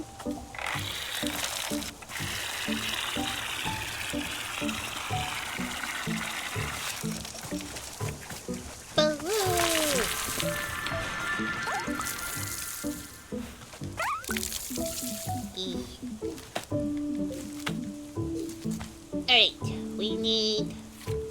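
Watering can pouring water in the video game Wanderstop, a gentle splashing trickle that rises and falls across the span, mixed with soft game sounds and a speaking voice.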